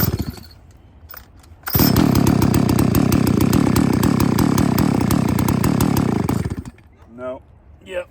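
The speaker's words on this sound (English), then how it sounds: "I'm going to start it again and just let it sit here and idle" A restarted chainsaw at a red oak log job roars to life and runs at a loud, rough, buzzing idle for about five seconds, then cuts off, leaving faint ambient noise and a brief voice afterward.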